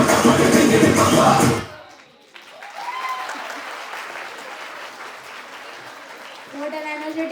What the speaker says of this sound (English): Please give a huge round of applause to everyone